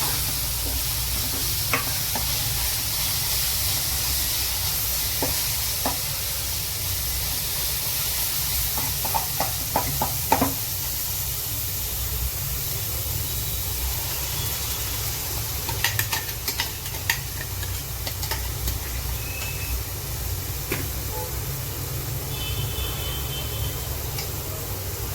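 Ginger garlic paste frying in a pan for Korramena fish curry, a steady sizzle and hiss under spoon scrapes and clinks of stirring against the pan.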